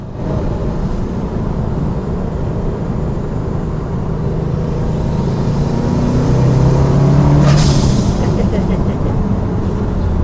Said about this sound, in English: Makes good noises as well with all the whooshes and bangs